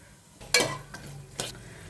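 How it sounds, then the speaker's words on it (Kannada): Whole spices dropped into hot oil for a spicy mushroom biryani, giving two short bursts of sizzling crackle in a pan, close and moderately loud, with no voices. "ಆಯಿಲ್ ಕಾಯಕ್ಕಿಟ್ಟಿದೆ ನೋಡಿ ಓಲ್ಡ್ ಸ್ಪೈಸ್ ಹಾಕ್ತೀನಿ"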